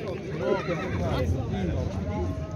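A five-year-old Karabair horse gives a loud, wavering neigh close by, with people talking around it and faint hoof sounds.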